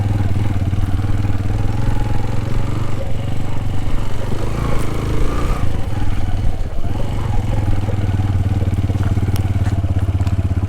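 Motorcycles run on the mountain road near Shandur Top, making a continuous loud engine drone with some clatter and crackle, up close.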